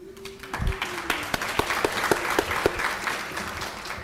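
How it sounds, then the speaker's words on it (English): An audience at an academic teaching and learning festival gives standing attendees a round of applause: scattered, moderately close claps with a few sharp individual hand strikes over a general patter, starting after a brief hum. "Please just stand up and we can just honor you with a round of applause"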